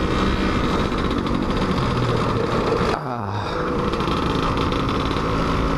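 Suzuki Satria 120 R two-stroke motorcycle engine running on a test ride, a steady buzzing drone with a brief dip around the middle before it carries on, with talking over it.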